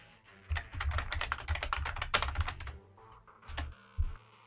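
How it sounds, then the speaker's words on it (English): A loud computer keyboard clatters with rapid, irregular typing bursts and a few isolated key strikes, heard up close in a gaming tournament setting. "That keyboard really is loud."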